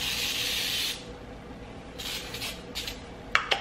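Cooking spray hisses onto baking pans in a steady burst for about a second, followed by a few shorter, fainter spritzes and light clatter in a quiet kitchen.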